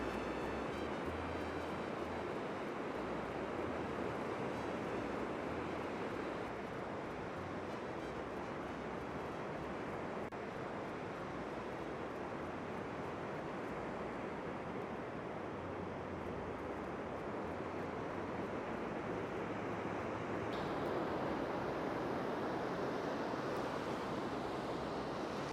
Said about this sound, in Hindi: तो लहरें हैं, ये गल्फ़ ऑफ मैक्सिको समंदर का, और थोड़ा सा शोर सुन लें